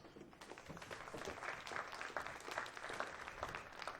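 A crowd at a professional pool match between Rodney Morris and Francisco Bustamante applauds a good run, sustained fairly distant clapping rising slightly and continuing for several seconds, faint.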